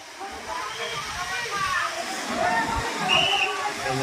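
Water pours steadily down the Kalmandavi waterfall near Jawhar in Palghar, a broad, continuous rushing roar filling the whole stretch, with faint voices murmuring underneath.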